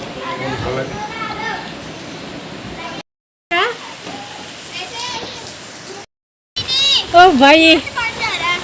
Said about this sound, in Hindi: और बारिश देख लो, ये देखो बारिश